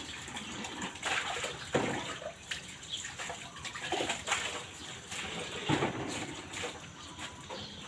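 Cups rinsed under running water, with steady splashing and a couple of sharper clatters of crockery, while pigeons coo faintly nearby.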